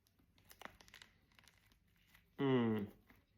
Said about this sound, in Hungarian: Olyan jó hallani, hogy ropog.